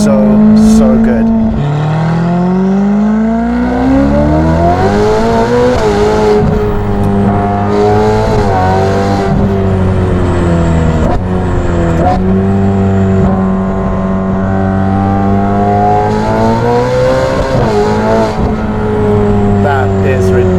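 An 818 hp Ferrari F8 with a Novitec exhaust revs hard on city streets, loud and close, its engine note climbing and falling through several long rev sweeps while people talk over it.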